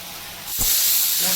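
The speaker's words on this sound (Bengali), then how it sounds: "ঢাকলে পরে একদম নাড়িয়ে নরম হয়ে যাবে শাকটা একটু ঝরঝরা টাইপে ভাজা হবে শাকটা" Water spinach greens frying uncovered in a pan, giving a steady broad hiss that jumps louder about halfway through and then holds as a continuous sizzle.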